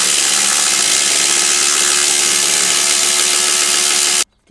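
A power tool, likely an impact driver or drill, runs loud and close as an exhaust pipe cap is tightened on a 2017 Toyota Tacoma with a Magnaflow Overland exhaust, a continuous buzzing whir that cuts off abruptly near the end.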